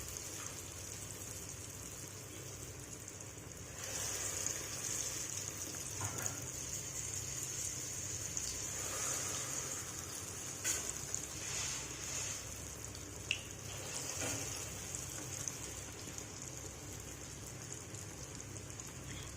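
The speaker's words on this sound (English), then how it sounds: "So allow it to fry to light golden brown before you flip it over." Akara bean cake batter frying in hot oil, a steady soft hiss and crackle of sizzling that carries through with faint bubbling pops.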